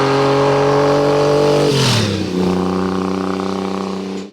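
Norton-framed café racer motorcycle with a BSA engine, running loud and close with a steady droning exhaust note that drops in pitch as the revs fall away, then settles before cutting off.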